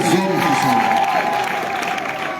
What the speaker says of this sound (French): Applaudissez pour eux, applaudissez pour tous les hommes qui sont là.